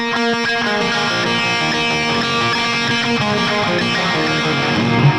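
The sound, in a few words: electric guitar with delay effect left on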